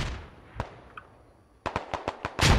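Machine gun fire in the Squad military video game: one isolated shot, then a pause, then a rapid burst of sharp, loud reports ending in a heavier final volley.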